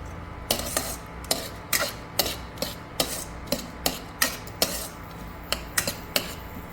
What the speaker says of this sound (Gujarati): ચલો હવે આમાં આપણે ડ્રાયફ્રૂટ નાખી દઈશું.